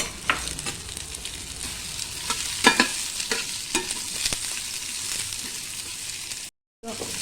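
Three onions tossed into a hot pan with dried red chillies for an okra-and-onion dish, giving a close, steady sizzle broken by clattering stirring scrapes, with a brief dropout near the end.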